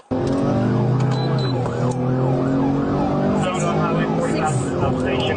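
A police car siren wails loudly and continuously at close range as the vehicle races along a highway against traffic, with rising and falling tones over road noise and a voice talking.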